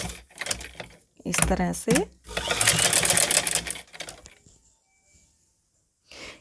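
A sewing machine stitches a fabric-wrapped elastic scrunchie bracelet in a fast, close mechanical whir lasting a couple of seconds, with short bursts and handling clicks before it; someone speaks briefly.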